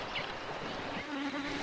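Insects buzz in the jungles of New Guinea, a faint, continuous whining hum with a few higher passes, steady and close.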